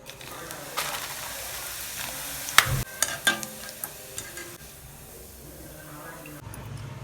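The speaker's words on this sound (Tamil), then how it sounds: "இதை பொரித்து எடுத்துக்கலாம்." Sun-dried bitter gourd slices deep-fry in hot oil with a steady bubbling sizzle, broken by a few sharp clicks and scrapes from stirring, close by with some talking.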